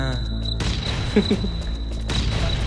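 A sudden broadband blast from an explosive in the survival game Last Island of Survival bursts out loud and close, followed by rumbling debris and a second surge of noise near the end.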